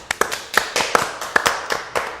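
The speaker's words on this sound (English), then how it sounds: "Golf clap." A studio audience gives a sparse, polite golf clap: a handful of separate, crisp hand claps at an uneven rhythm, close and fairly light, with no talking over them.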